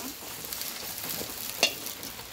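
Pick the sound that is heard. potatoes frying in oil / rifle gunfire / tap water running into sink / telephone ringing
potatoes frying in oil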